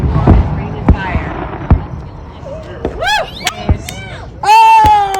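Fourth of July fireworks burst nearby, sharp loud bangs followed by whistling, crackling rockets, while people exclaim and chatter excitedly between the explosions.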